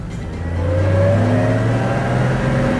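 A vintage Chrysler car's engine revs up close and loud, its pitch rising over the first second and then holding at a steady, throaty drone.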